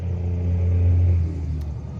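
A turbo diesel truck engine with an exhaust leak, a deep steady rumble close by with a low droning hum that swells briefly as it pulls, heard alone without talk.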